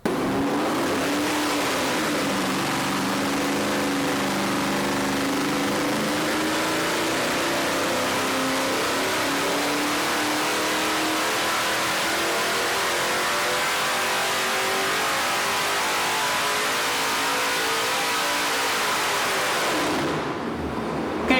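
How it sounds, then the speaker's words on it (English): A 5.3-liter LS V8 engine fitted with an LM7 cam runs steadily and loudly for the whole stretch, a dense continuous roar with slow rises and falls in revs and no talk. "So let's hear this baby run and get to those results."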